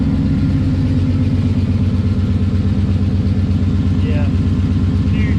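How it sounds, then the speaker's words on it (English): A 2012 Ford Mustang Boss 302 with newly installed long-tube headers and a mismatched X-pipe causing an exhaust leak idles close by, a loud lumpy rhythmic burble, while someone briefly speaks over it. "huge exhaust leak, but I'll get that fixed."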